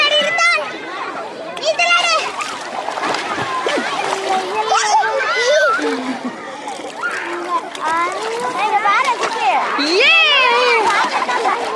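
Children swim and splash in river water, with repeated splashes and churning water under near-constant excited chatter and shouting from kids and adults nearby.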